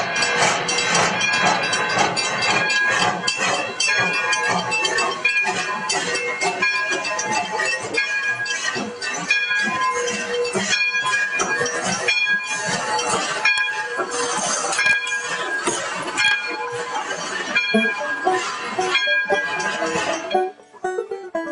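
A train at the Santa Paula depot rolls in with loud, continuous rumbling and clattering wheels, dense and close for about twenty seconds before cutting off abruptly at the end.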